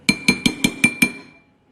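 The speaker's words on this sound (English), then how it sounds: "Stir it in until it's completely melted." A spoon stirs butter into a bowl of microwaved elbow macaroni, clinking against the bowl six times in an even rhythm before the ringing fades.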